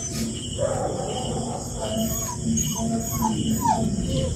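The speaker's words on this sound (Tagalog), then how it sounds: "Ganina pa yung aso na yun." A dog barks and howls at night in a series of short, somewhat distant calls with rising pitch, set against a steady background of chirping crickets and faint ambient noise.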